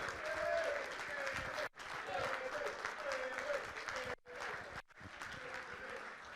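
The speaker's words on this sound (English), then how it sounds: "Just give Billy a special round of applause on his own." A reunion-evening audience applauds for Billy, a former member of the 2003/04 season group, with loud sustained clapping and crowd noise over which a voice talks, broken by a few brief gaps.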